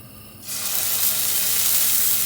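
The fatty side of lamb drops into a very hot frying pan and bursts into a loud, close sizzle that starts abruptly and keeps hissing steadily, with no talk over it.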